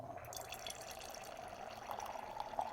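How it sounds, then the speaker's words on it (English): Red Les Jamelles 2018 Pinot Noir is poured into a glass, a faint, steady liquid trickle that swells slightly toward the end, heard alone. "I'm just going to pour a little bit into the glass for starters"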